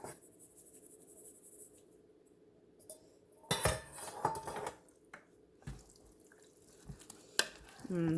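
Seasonings are stirred into homemade chili in a crock pot, with scraping and clinking of a utensil against the pot in several brief bursts between quieter stretches.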